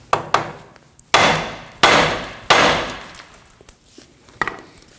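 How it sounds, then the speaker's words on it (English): Several sharp metallic hammer blows on the back of a Ford Edge steering knuckle, spaced unevenly, each ringing briefly before fading, with lighter taps in between. "Now I'm going to use a hammer and strike on the knuckle right on the back side here."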